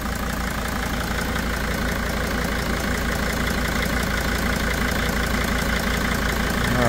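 A Mercedes Sprinter T1N diesel engine idles steadily after an injector leak repair, a continuous close, loud rumble with an even mechanical clatter and no talk over it.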